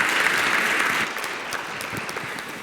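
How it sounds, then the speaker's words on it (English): An audience at a startup pitch competition applauds, a steady wash of many hands clapping that holds strongly for about a second, then continues slightly softer with faint voices mixed in. "give a round of applause"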